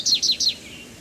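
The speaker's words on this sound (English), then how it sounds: "American goldfinch." American goldfinch call in the Nancy Drew video game, three quick bright chirps in a rapid even series, clean and alone.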